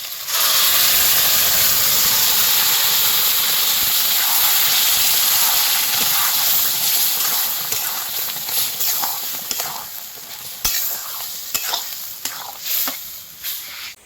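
Boiled mung dal tipped into a pan of hot fried spices and cumin powder gives a loud, steady sizzling hiss that slowly eases, close up, with a few sharp clinks near the end and no talk.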